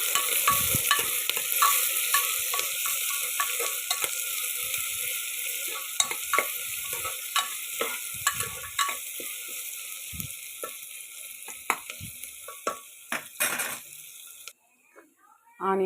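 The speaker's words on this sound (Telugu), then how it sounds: "ఉల్లిపాయలు, కరివేపాకు ఇవన్నీ వేసి బాగా కలుపుకోండి." Onions and curry leaves fry in oil in a pan while being stirred, a bright continuous sizzle with irregular spoon scrapes and knocks, close up, fading out near the end before a final burst of noise.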